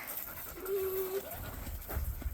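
A black water dog pants close by in quick soft breaths, with a brief tonal whine mixed in and some low rustling toward the end.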